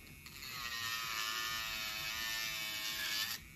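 A Makartt electric nail drill spins at 11,000 RPM while grinding acrylic, giving a steady, close, high-pitched whine. It does not drop in pitch under pressure, and no one talks.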